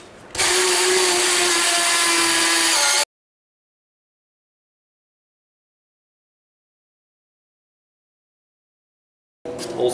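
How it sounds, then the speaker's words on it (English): A power drill bores holes for a drive-on tilt-over antenna mount, giving one loud, steady, close whine for about three seconds before it cuts off into silence. "Now let's drill some holes."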